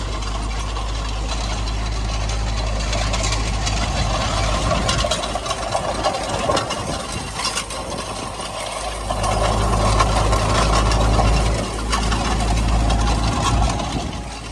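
Tractor pulling an SZ-3.6 seed drill sowing winter crop, a loud steady engine drone with a deep low hum and continuous rattling, clanking machinery noise throughout, no voices.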